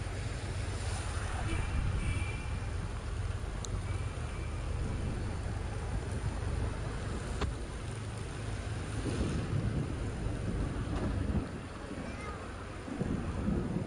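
Heavy rain pours at night in Nha Trang during a tropical depression, a steady dense hiss with wind-like rumble that continues throughout, easing slightly near the end.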